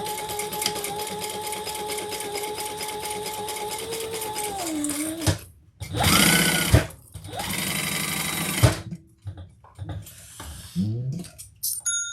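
A sewing machine bastes fabric for a bag, running in fast steady bursts of rapid mechanical stitching with short pauses between them and a faint whir underneath.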